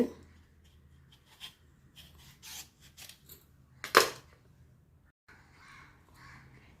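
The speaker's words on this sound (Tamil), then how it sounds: "பப்பாளிக்காயை தொளி சீவிட்டு" A raw papaya has its skin shaved off with a peeler in a quiet kitchen, giving a series of short, irregular scraping strokes, one louder rasp standing out among softer ones.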